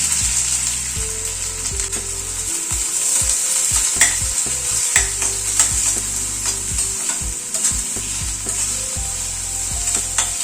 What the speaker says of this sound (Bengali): পেঁয়াজটাকে হালকা করে ভেজে নিচ্ছি।